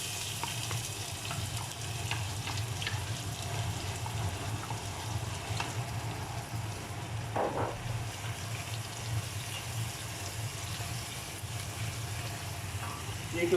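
Chopped onions fry in hot oil in a home kitchen, giving a steady, dense sizzle throughout with a brief stir or clatter partway through.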